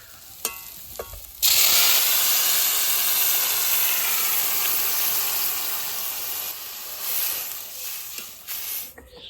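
Water poured onto sautéed taro in a hot pan bursts into a loud, sustained hiss of steam and sizzle after a quiet start with light clatter, then slowly fades with some stirring noise.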